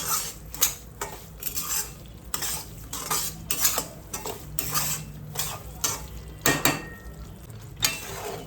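Semolina roasting in ghee for Satyanarayan prasad sheera is stirred in a pan, with repeated scrapes and clinks of the spoon against metal over a low sizzle, in an irregular rhythm and close up; no speech.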